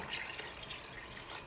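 Cold water, about two and a half cups, poured into a pot of vegan lentil vegetable soup, a brief continuous splashing rush heard close and on its own.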